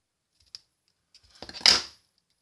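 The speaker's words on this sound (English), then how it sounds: "with my paper snips, I'm just going to trim that off a little bit" Paper snips trimming a strip of card stock for a simple winter scene card, a faint single click followed by a brief, close, crisp cutting burst, with no voices.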